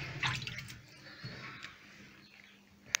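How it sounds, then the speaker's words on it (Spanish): Water poured into a pot used for steam-melting recycled wax, faint splashing and dripping with a few sharp drops close by in a quiet garage. "Le echamos agua debajo, ¿veis?"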